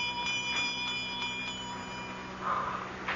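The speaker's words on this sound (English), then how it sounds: "I'm trying to see where that bell came from." A small bell rings in a radio drama mystery, a thin repeated tinkling with a few soft strikes under steady background hiss, then a brighter ring near the end.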